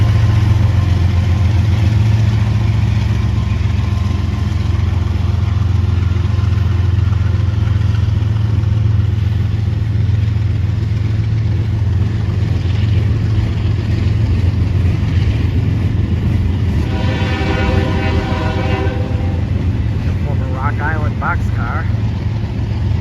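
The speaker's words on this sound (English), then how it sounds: "The power of this train is number 5347, a GE ES40DC, and number 756, an ES44AH, also built by GE." A CSX freight train led by a GE ES40DC and a GE ES44AH locomotive rolls past, its deep diesel rumble loud and steady, while a voice talks over it.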